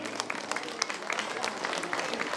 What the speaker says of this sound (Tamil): நல்லாவே கைத்தட்டலாம்